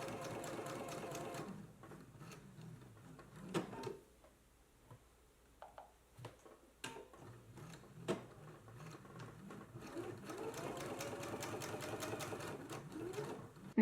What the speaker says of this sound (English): you want to go ahead and do a 1/4 of an inch top stitch all the way along the edge of the flap